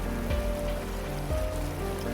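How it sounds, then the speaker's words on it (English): Heavy rain pours steadily, a dense continuous hiss of drops hitting surfaces, close and loud throughout with no voices. "the sky darkened, thunder roared, and rain began to pour heavily."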